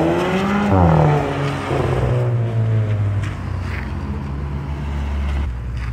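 Loud VW GTI engines rev and drone close by at a car meet, with a steady low roar that swells and dips, rising briefly in pitch near the start.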